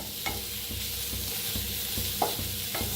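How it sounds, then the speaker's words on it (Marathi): Onions fry in mustard oil in a pan under a constant loud sizzle, with regular stirring strokes scraping every half second or so. "तर कांदा चांगला असा भाजून घ्यायचा आहे।"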